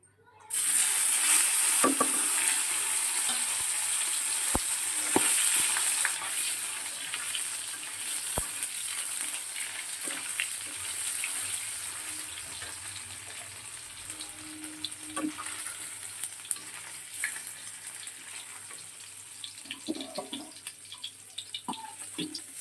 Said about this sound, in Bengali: তো চলো আগে পনিরটা রান্না করে নিই।